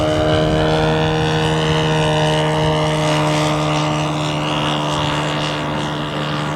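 Propeller-driven model aircraft flying at an RC airshow, its steady droning engine tone loud and sustained with strong harmonics, holding close throughout without any voices.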